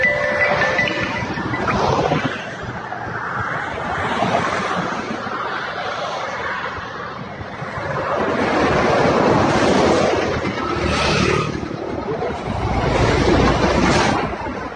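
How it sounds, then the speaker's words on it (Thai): Loud, steady roar of heavy traffic rushing past beside a highway, with surging waves of passing vehicles and wind buffeting the microphone throughout. "ไม่ได้ยินเสียงรถมันดัง มาตรงนี้ครับรถเยอะ"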